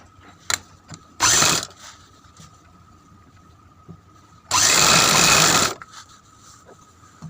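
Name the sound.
sewing machine stitching a Patiala salwar seam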